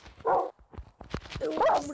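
A dog in a video game barks twice in quick succession, sharp and close, with a short gap and faint background noise between the barks.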